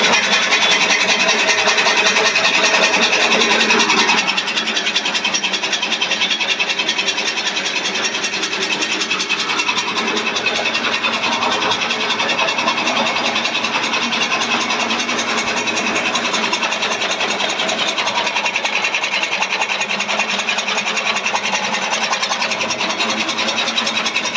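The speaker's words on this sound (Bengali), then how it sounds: "আসলে যে মেশিনটা এখন চালানো হয়েছে এটা হচ্ছে একটি খড় কাটা এবং ঘাস কাটা মেশিন" Indian-made straw and grass cutting machine running steadily, a loud continuous mechanical drone and clatter throughout, with a slight change in tone after the first few seconds.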